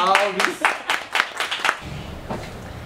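Applause for a singer at a live music session, a short burst of sharp claps in the first couple of seconds that quickly fades to quiet room tone.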